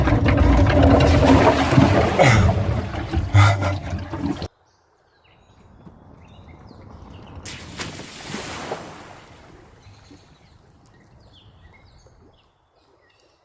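Water splashes and sloshs into a homemade boat fitted with an underwater window, first as loud churning, then after a pause as a softer rushing wash that swells and fades.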